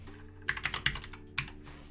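Bursts of typing on a computer keyboard during coding work, a few quick clustered keystrokes, a pause, then one more short burst, close and clear with no talking.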